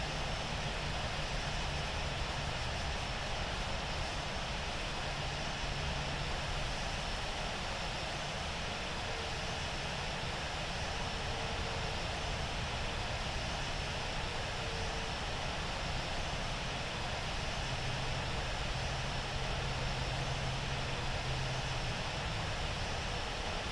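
Airliner taking off from runway 34 left in the Infinite Flight simulator, a steady, dense engine roar holding at an even level throughout with no breaks.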